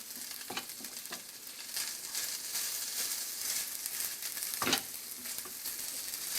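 Salmon rissole filling with garlic sautés in a pan, giving a continuous close sizzle broken by a few scraping stirs of a utensil, with no voices.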